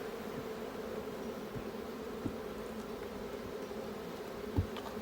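Honey bees hum at an open hive frame full of brood during queen cell starter work at a sheep yard, a soft, steady close buzz with a few faint taps.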